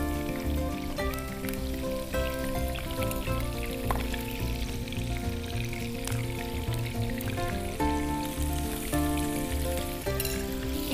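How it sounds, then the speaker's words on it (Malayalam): Boneless chicken pieces fry in hot oil for chicken kondattam, a steady, even sizzle running under tonal background music. "ഇതിലേക്ക് നമുക്ക് ചിക്കൻ വറുത്തെടുക്കാം."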